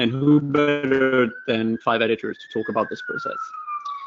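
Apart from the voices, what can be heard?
ambulance siren passing in London street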